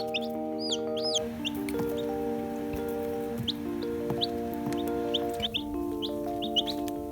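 Young shipped chicks in a brooder peep constantly in high, overlapping chirps. A low, continuous hum from the brooder runs underneath.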